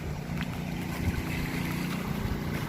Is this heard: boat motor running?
yes